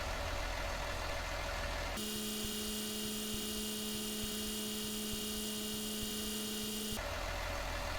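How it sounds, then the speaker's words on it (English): A Fendt tractor arrives hauling a load in Farming Simulator 19, its engine a steady low drone with a tonal hum, shifting character midway then returning, no voices. "there's the second tractor, the Fent, just arriving as well"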